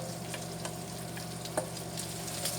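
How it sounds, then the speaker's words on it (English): Onions frying in a pan with bacon make a steady, close sizzle, with a few soft stirring clicks and small pops along the way. "And I'm going to add my onions to the bacon."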